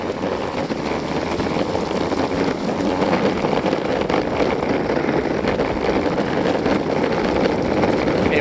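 Backfire II electric skateboard at full throttle climbing a steep, slippery hill, giving a steady, loud broadband rush of motor whine, wheel roar and wind buffeting the microphone throughout, with no voices.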